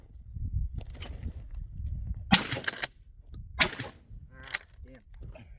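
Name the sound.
gunshots fired at a drone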